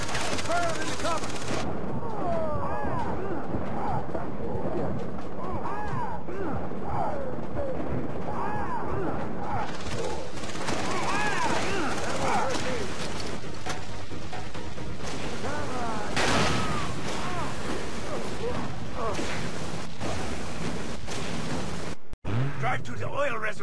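Heavy .50 caliber machine gun fire in the Far Cry 3 video game, dense sustained bursts with explosions and crackling battle noise throughout, loud and close, with game voices mixed in.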